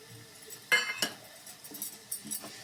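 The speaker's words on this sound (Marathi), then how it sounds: "त्याचा पूर्ण गोळा होत नाही तोपर्यंत तो ढवळत राहायचा आहे" Metal spoon scraping and clinking against a pan while stirring a grated coconut and sugar mixture for narlachi barfi, a few distinct clinks followed by softer scrapes, close and fairly quiet, with no talking.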